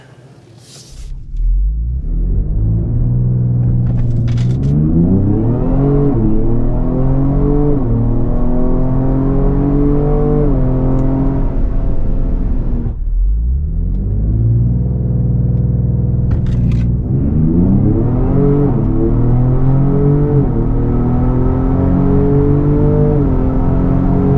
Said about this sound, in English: give you guys a hard acceleration and make sure we got no NVH